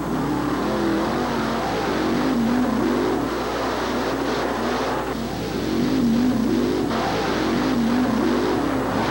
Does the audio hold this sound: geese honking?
no